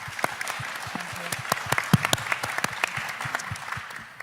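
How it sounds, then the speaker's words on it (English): A live audience at a pancake breakfast held during a tech summit gives a round of applause, scattered individual claps standing out sharply over a softer steady patter. "Let's give them a big round of applause"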